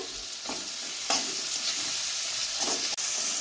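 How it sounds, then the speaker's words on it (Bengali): Chopped tomatoes with salt frying in a pan for a Bengali pangas fish dish. A steady, soft sizzle runs throughout, with a few close stirring scrapes and no voices. "টমেটো ভাজা ভাজা হয়ে গেছে।"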